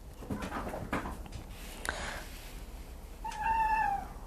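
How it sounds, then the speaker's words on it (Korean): A cat meows near the end, one clear drawn-out call after a stretch of quiet room noise, faint and alone with no talk. "고양이가 꽤 빽빽 옵니다"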